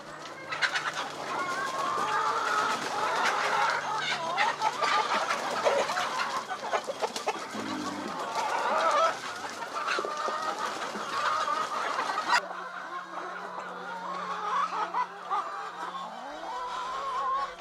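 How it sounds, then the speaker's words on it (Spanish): Free-range chickens cluck, coo and chatter in a busy, close flock as the coop gate opens, with a steady low hum beneath that changes after a sudden cut partway through. "las gallinas están a la expectativa y ansiosas por salir del galpón"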